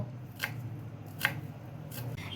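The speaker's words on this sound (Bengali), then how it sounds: "এবার আমি ধনেপাতাটাকে মিহি করে কুচিয়ে নেব" Three sharp, evenly spaced knife cuts through coriander leaves on a board, crisp and close, over a quiet kitchen background with no talking.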